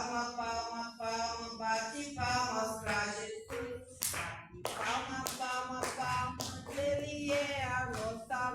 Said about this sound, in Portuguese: Palma, palma, palma, bate palmas para Jesus.